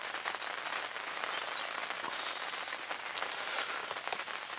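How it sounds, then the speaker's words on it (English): Steady rain patters continuously on a vehicle, a dense hiss of drops striking a surface, with no voices. "it's been raining for a good while"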